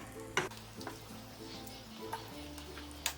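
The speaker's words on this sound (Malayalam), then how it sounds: "നന്നായിട്ടൊന്ന് മിക്സ് ചെയ്ത് കൊടുക്കണം." Steady sizzling of spicy chicken karahi with thick gravy frying in a pan, with occasional scraping clicks of a spoon stirring through it.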